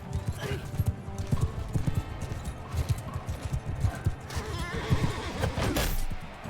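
Horses gallop and neigh in the medieval combat game Bannerlord, rapid hoofbeats thudding in quick rhythm with whinnies during a chaotic battle, while someone talks over it.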